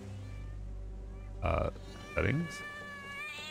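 A cat gives two short meows close by, the second rising and falling, against steady background music, with a person speaking quietly nearby.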